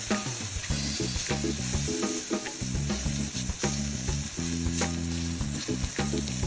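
Garlic sizzling with mushrooms in a hot pan, a steady dense crackle and hiss throughout, close and continuous with no talk, under a layer of background music.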